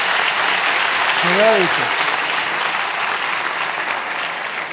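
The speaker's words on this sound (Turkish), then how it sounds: "Bence de alkış ya." A studio audience on a Turkish comedy show applauds, a loud, continuous burst of clapping with a short spoken exclamation heard over it.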